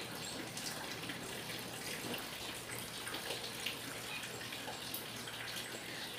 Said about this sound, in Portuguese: E agora eu vou completar com água.